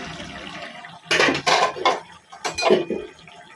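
A small fish and eggplant curry stirred in a pot, several close scraping and clattering strokes of a utensil against the metal in two short bursts over a quiet simmer.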